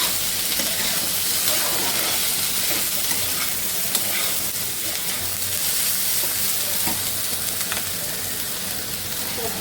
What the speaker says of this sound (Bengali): এর সঙ্গে পেঁয়াজ আর কাঁচামরিচও ভেজে নিচ্ছি।